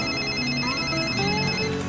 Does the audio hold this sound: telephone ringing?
yes